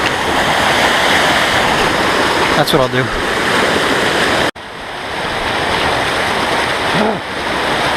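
Rushing stream water on the Black Forest Trail, loud and close, with a man wading across while holding a log; the flow is continuous, broken by a brief cut, and a short spoken remark sits over it.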